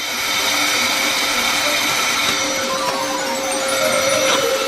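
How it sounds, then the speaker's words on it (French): A steady, loud blowing whoosh, like a hair dryer running continuously at close range, filling the whole clip with broadband air noise. "Un sèche-cheveux ordinaire nos aidera."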